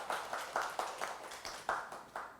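Audience at a Sunday Buddhist dharma service claps in a series of soft, quick bursts, several distinct rounds of applause close together, fairly quiet with no talking.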